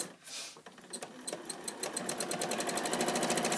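A sewing machine stitches free-motion quilting in pebble circles, its needle running in a quick, steady close-up patter that builds into an even rhythm, heard alone.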